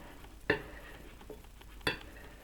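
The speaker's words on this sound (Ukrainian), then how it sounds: "Та перемішую яблука разом з крохмалем та з корицею." Apples tossed with starch and cinnamon for an apple pie are stirred in a bowl, heard as two distinct scraping clacks of a utensil against the dish, with faint softer movements between them and no talking.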